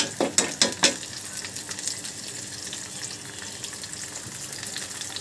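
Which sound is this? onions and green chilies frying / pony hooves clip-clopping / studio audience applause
onions and green chilies frying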